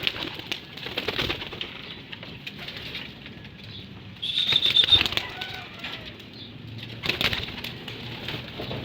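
Racing pigeons in a loft flap their wings in a few short bursts, the loudest flurry near the middle, with faint cooing and soft rustling between.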